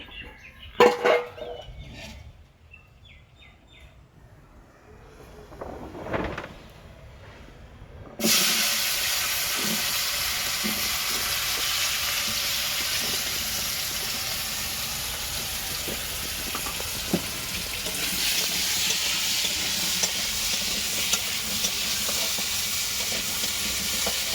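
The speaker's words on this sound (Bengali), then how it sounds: "তেল দিয়ে নেব, ওই কড়াইতে আমি ভেন্ডি আলুটা ভেজে নেব।" Okra and potato go into hot oil in a wok, bringing on a loud, steady sizzle and hiss that lasts to the end. Scattered clinks and stirring knocks come before it.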